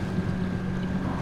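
A submarine glides through water in the video game Grand Theft Auto 5, giving a steady, loud underwater engine drone and rushing hum with no break and no voices.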